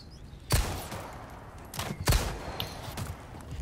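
Gunshots in Resident Evil 4 Remake ring out aimed at the player, two loud close cracks followed by a few scattered fainter shots.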